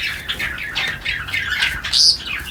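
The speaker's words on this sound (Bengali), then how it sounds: "দেখেছো কেমন স্পিরিট পাখিটা।" A female bird in a cage squawks repeatedly, loud, harsh calls close by, coming in quick bursts one after another, with the sharpest cry near the end.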